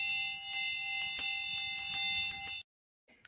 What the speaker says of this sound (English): Get ready and hit the bell.